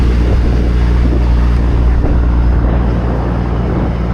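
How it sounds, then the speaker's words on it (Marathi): Deep-sea fishing boat's engine droning steadily as it nears the shore, a low, loud, continuous rumble mixed with wind noise, no talk. "आता बोट पण किनाऱ्याच्या जवळ पोहोचत आले"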